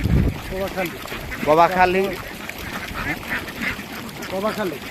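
Several ducks quack in short bursts nearby at a floating duck farm, mixed with a busy outdoor background and some voices.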